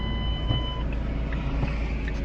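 A car engine runs steadily after being bump-started with a dead battery, a constant close-up mechanical hum and rumble with no pause.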